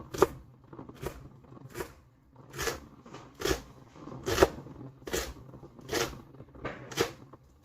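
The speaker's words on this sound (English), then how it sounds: "make sure you cut it fine. Everything should be finely chopped, uniformly cut" A knife chopping red onion finely on a board for guacamole, a steady run of about ten crisp, evenly spaced taps, close and moderately loud, with no talking.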